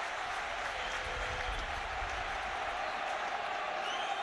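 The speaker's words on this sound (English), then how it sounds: "Just listen to the crowd here." Dense stadium crowd noise at a West Ham football match, a steady roar of many voices and cheering filling the whole stretch at an even, loud level without pause.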